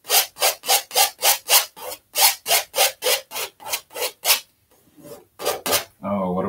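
Rhythmic scraping of paint off a canvas with a knife or tool, a steady series of about twenty close, rasping strokes with a brief pause near the end.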